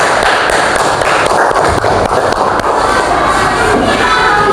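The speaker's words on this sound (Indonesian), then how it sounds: "Kasih tepuk tangan buat kelompok 1" A classroom group applauding together, a loud dense wash of clapping hands that holds steady from start to finish.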